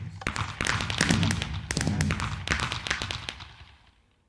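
Fireworks from a Minecraft firework mod, a rapid crackling string of bursts and pops, dense and fairly loud, with several louder thumps before the sound trails off into quiet.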